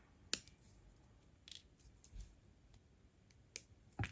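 Small wire cutters snip the ends of jewelry wire while a square stone is being wire wrapped, giving a few sharp, close clicks spread over several quiet seconds.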